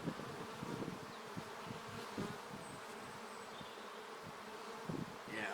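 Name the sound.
honeybees buzzing during an early season hive inspection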